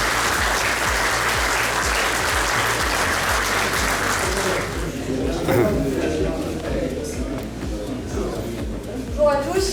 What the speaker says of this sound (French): donc applaudissez-les en bas.